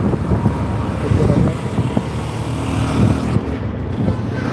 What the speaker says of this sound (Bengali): যেহেতু এক হাতে মোবাইল বাইক চালাচ্ছি বাইক রাইড করতেছি